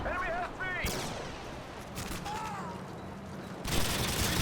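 Machine gun bursts from an RPD and PP2000 in Modern Warfare 2 on the Highrise map, rapid loud sprays of fire in a few bursts with brief pauses between them.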